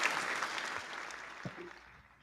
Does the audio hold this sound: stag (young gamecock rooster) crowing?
no